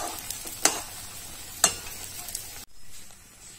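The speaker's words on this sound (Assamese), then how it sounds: "তিলখিনি দি পেলাই অলপ সময় ভাজিব লাগিব, কাৰণ তিলৰ এটা গোন্ধ আছে" Sesame seeds dry-frying in a pan give a soft, steady sizzle, broken by two sharp scraping clicks from stirring and a brief quiet moment near the end; no one speaks.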